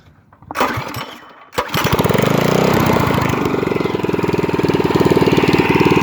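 A Predator 212cc small gasoline engine with 18 lb valve springs sputters, then fires up and runs steadily with a rapid, rhythmic mechanical clatter of valves, loud and close.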